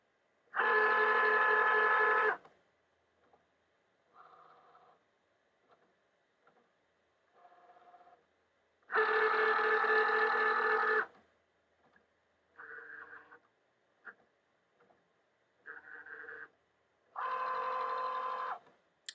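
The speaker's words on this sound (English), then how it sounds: "the machine is going through the mat, going back and forth, doing its thing, and it's going to scan the sheet" A Cricut Joy Xtra cutting machine scans calibration marks on a printed sheet, giving three loud sustained motor whirs spaced several seconds apart, with quieter short mechanical whirs and clicks between them, close up and with no talk.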